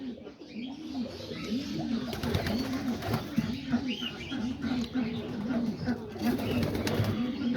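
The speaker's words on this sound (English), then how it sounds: "all the pigeons here are doing good" Several pigeons coo continuously in soft, rolling repeated phrases close by inside a loft on a rainy day, with faint rustling and scattered background noise.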